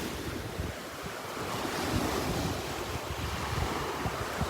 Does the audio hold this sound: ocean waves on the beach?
yes